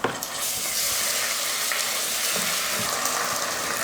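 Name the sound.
ginger garlic paste sizzling with sautéed onions and chillies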